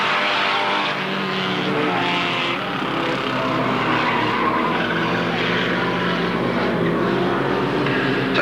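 Standard rods race cars tear around the Alwalton oval in a loud, continuous engine roar that swells and fades slightly as they pass, with no voices.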